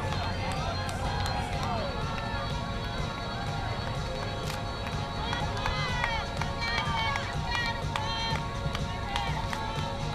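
Spectators cheering runners across the finish line of a Labor Day 5k road race, continuous crowd noise with whoops and shouts, chatter mixed in, and footsteps and background bustle underneath.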